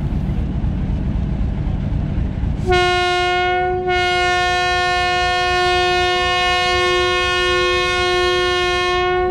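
The 130DN Thal Express sounds a long, loud, steady horn as it pulls out on its Rawalpindi to Multan run, the sustained blast starting a few seconds in over a background rumble and briefly dipping before continuing.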